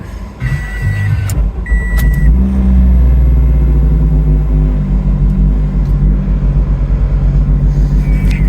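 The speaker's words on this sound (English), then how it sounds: "The car does sound different." A Toyota Yaris engine idles and revs steadily after a fresh oil change and gasket replacement, a loud close rumble with a couple of short beeps at the start.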